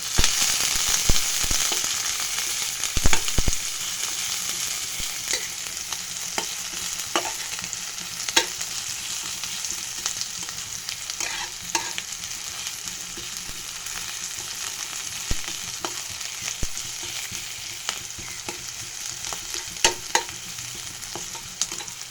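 Garlic, onion and green chili fry in a pan before potato goes in, giving a continuous crackling sizzle punctuated by frequent spatula taps and scrapes against the pan, close up and without voices.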